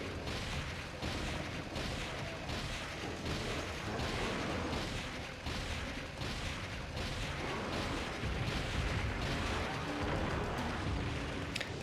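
Heavy bowgun fire in Monster Hunter 4 against a Tetsukabura, a steady stream of loud booming shots and impacts that fill the whole stretch with dense, continuous blasts and no voice over them.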